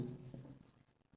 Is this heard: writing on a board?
yes